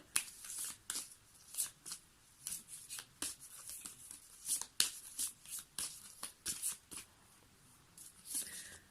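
Tarot cards being shuffled and drawn during a reading, a run of soft, close riffling and flicking bursts in an irregular rhythm, faint and without talk.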